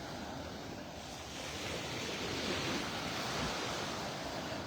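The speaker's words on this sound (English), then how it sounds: "sounds of the birds and Mother Ocean." Ocean surf rolling onto the beach at Delnor-Wiggins in North Naples, Florida, a steady broadband wash with gentle swells rising and falling, mixed with wind rumble on the microphone, no voices.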